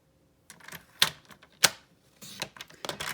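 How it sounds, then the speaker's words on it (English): Paper trimmer slicing Designer Series paper for a greeting card: a few sharp close clicks and snaps of the blade carriage, with quieter rustling and sliding between them. "I can trim off the Designer Series paper on this edge."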